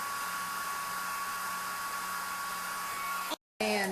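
Hair dryer on a low setting blowing over a wet straw painting, a steady whooshing hum with a faint whine that cuts out for a moment near the end before starting again.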